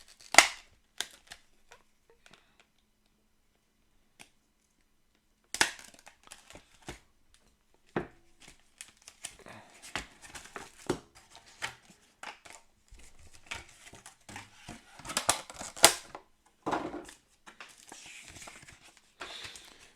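Packaging of a Marvel Champions card game hero pack being opened: scattered crinkles, tears and sharp plastic clicks in irregular bursts, close and separated by short quiet gaps.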